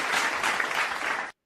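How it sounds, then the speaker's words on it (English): A short, steady wash of applause, fairly faint, cutting off abruptly after just over a second. "a round of applause for Ken, who just gifted a membership"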